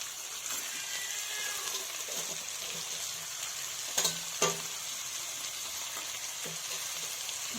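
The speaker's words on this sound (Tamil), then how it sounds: "நண்டை போட்டு நல்லா வதக்கணும். நல்லா கிண்டி விடுங்க." Crab sautéing in a pan for a crab gravy, a steady broadband sizzle and fry that holds throughout, with a couple of brief stirring clatters midway and no voices.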